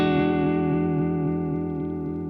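An MXR Uni-Vibe pedal colors a sustained electric guitar tone with a sharp, throbbing LFO modulation, the rich harmonic note ringing loud and steady while its pulsing sweep wobbles through the low end.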